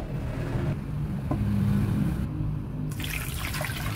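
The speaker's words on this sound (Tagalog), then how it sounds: "maglagay lang tayo ng tubig. Tubig muna ang aking ilalagay dito." Water runs steadily into a cooking pot holding cassava pieces, a loud continuous pouring hiss that changes tone partway through.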